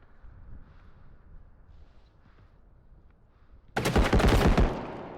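Sudden burst of rapid automatic gunfire erupts after several seconds of quiet low rumble in a bodycam-style video game shootout, loud and close with dense overlapping shots.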